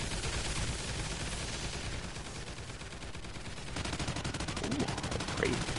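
Turret gunfire in the game Extinction, a continuous muffled rattle of rapid shots spread across the whole stretch at moderate level, with faint chirping effects near the end and no voices.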